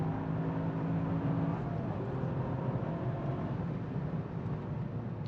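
Engine of a Toyota GR Yaris heard from the cabin while driving, a steady low drone with road noise, holding an even tone that shifts slightly in pitch partway through.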